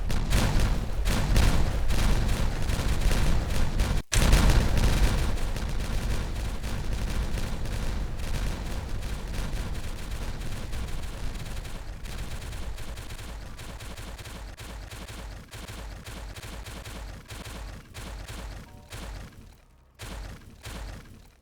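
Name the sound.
explosives detonating in the video game Timberborn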